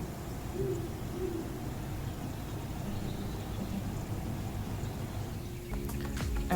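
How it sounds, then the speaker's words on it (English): Owls hooting at a distance, a few soft low calls over steady outdoor hum, with a brief engine-like rise near the end. "I loved hearing the owls."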